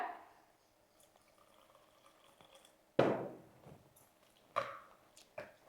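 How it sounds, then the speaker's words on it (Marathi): Water splashes into gram flour batter for crisp spinach pancakes in a few short, soft bursts, with quiet stretches before and between them and no talking. "आपण ह्याच्यात थोडंसं असं पाणी ओतूया"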